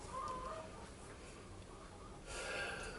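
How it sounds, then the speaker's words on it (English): Hens cluck softly and intermittently in the background of a backyard flock, with ducks nearby, a quiet scene with faint low clucks and snorts. "there's the hens"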